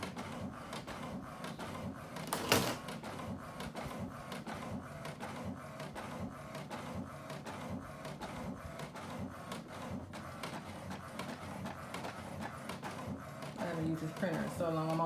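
A home printer runs through a sheet for a print-then-cut craft, giving repetitive mechanical whirring and clicking passes with a sharp burst early on, while a person talks quietly over it.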